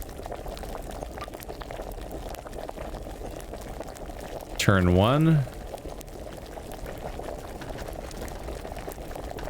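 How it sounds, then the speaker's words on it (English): Bubbling alchemy brew in the video game Kingdom Come: Deliverance, a steady low boiling texture running throughout, with a voice speaking briefly over it midway. "Keep them bubbles going."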